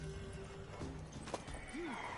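Horse hooves clip-clop softly in The Witcher video game, with a brief whinny near the end, all faint and under steady background ambience.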